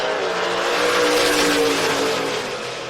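Drag racing cars, including a Mustang in the 6th Street Race 850 limited class, launch and roar down the strip at Sick Summer 2024, a loud sustained engine howl that swells and then eases slightly as it pulls away.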